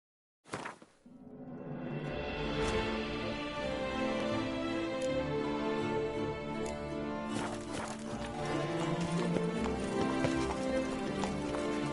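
Roach, the horse in The Witcher 3: Blood and Wine, breaks into a gallop with a quick onset, then a steady, rapid clatter of hooves continues over a sustained tonal game soundscape.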